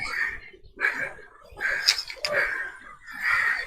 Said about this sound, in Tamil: குருவி